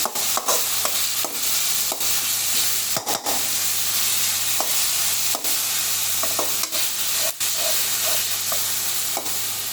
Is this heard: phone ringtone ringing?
no